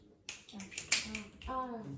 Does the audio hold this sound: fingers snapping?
yes